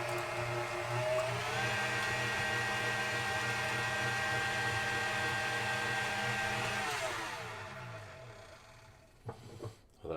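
Electric mixer beating vanilla and a large egg into soft gingerbread cookie dough, a steady loud motor whine running for about seven seconds, then slowing and winding down with a few clicks of the beaters at the end.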